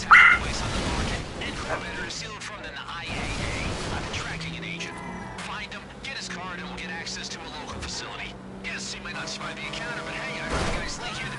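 A distressed dog in the game GTA barks and whimpers in short bursts, mixed with game sounds and running under steady talk.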